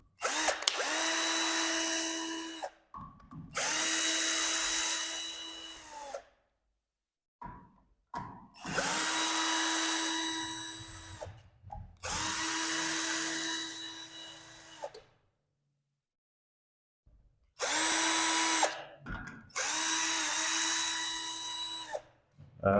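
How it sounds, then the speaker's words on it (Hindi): Power drill run in repeated bursts of a few seconds each with short pauses between, close and loud, as it unscrews electrical switch fittings indoors; a whirring motor tone rises and falls in each burst, with a few faint sounds in the gaps. "तो जी दोस्तों ये हमारे पास ड्रिल है"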